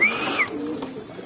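Pigeons coo in a close, loud burst, a single rolling call with a sliding tone, heard alone with no voices over it.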